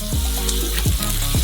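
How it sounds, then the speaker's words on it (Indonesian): Ground meat frying in oil in a pan on a stovetop, a steady close sizzle with a few short scraping stirs, no talking. "Taruh wajan di atas kompornya, tambahkan minyak,"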